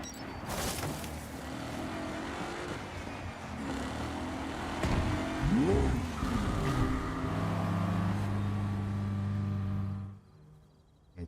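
Car summoned in Cyberpunk 2077 pulls up and drives off, a steady engine hum rising with a revving sweep midway, then settling into a sustained drone with layered tones before cutting to near silence at the end.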